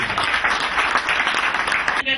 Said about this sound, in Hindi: आप सभी से जोरदार तालियों से स्वागत करते हैं मिस्टर महेश वर्मा जी